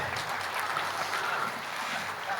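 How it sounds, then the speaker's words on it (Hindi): A crowd at an outdoor public address by a deputy speaker in Lower Siang District applauds in a steady, dense wash of many hands, evenly loud and diffuse for the whole stretch, with no clear voice on top. "आप लोग कम से कम ताली तो बजाइए।"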